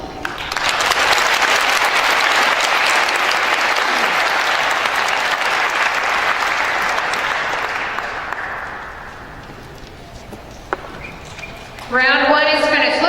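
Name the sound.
audience applause for spelling bee spellers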